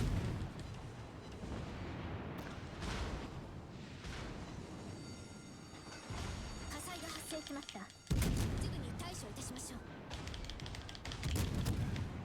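Heavy naval gunfire from warships firing high-explosive shells in World of Warships Legends, with repeated booming salvos and a sustained rumbling battle din. A voice talks over the shooting throughout.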